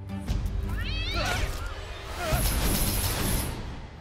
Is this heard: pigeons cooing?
no